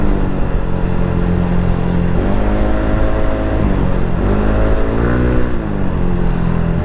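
A motorcycle engine runs loud and close with a continuous drone, its pitch rising and falling as the revs change while riding.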